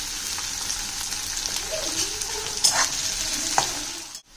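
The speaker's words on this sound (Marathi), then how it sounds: "तुम्ही पाहू शकता आता गवारी आपली फ्राय होत आलेली आहे." Cluster beans (gavar) fry in hot oil with a steady, loud sizzle and crackle, with occasional clinks of a stirring spoon against the pan, then a sudden stop at the end.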